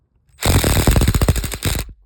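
Hammer blows on a Subaru BRZ rear coil spring during a lowering-spring install: a loud, rapid burst of metallic strikes lasting about a second and a half, close by, with no talking.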